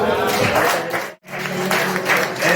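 A church congregation at an Easter Sunday service breaks into applause for the Lord, a loud burst of clapping with a short gap in the middle before it resumes, while voices stay mixed in throughout.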